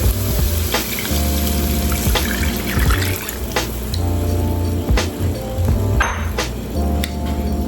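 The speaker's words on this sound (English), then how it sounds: "then I'm gonna pour my chicken stock and my water that I have here in here." Chicken stock and water poured into a hot pan after cooking turkey meatballs, starting a gravy: a steady, close pouring and sizzling hiss with sharp clanks and taps of a utensil against the pan, with no talking.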